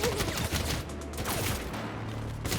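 Undermount shotgun firing in the video game CrossfireX, a dense run of loud, near combat blasts over a steady low game rumble, with no pauses across the stretch.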